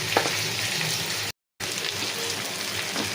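Rohu fish pieces fry in oil in a pan and get flipped over, a loud close crackling sizzle running continuously, broken by a brief full silence near the middle, with occasional soft utensil scrapes and no talking.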